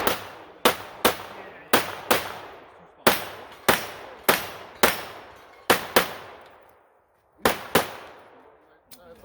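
Rapid pistol shots ring out on a USPSA shooting stage, about a dozen sharp loud cracks in quick irregular bursts with short ringing decays, a brief pause, then a few more shots.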